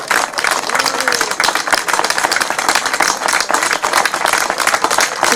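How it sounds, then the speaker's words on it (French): Sustained, dense applause from striking workers gathered at a picket line outside an EDF power plant during a pension reform protest, loud and close, steady for several seconds with a few voices mixed in. "pouvez vous applaudir"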